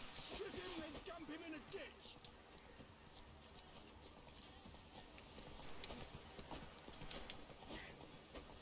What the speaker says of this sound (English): Man, these are agile horses.